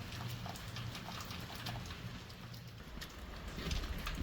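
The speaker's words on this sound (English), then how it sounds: "You simply pull out and twist and the oil will pour." Engine oil pours out of the drain on a John Deere riding mower in a steady, faint trickle that runs unbroken from start to finish, with no voices.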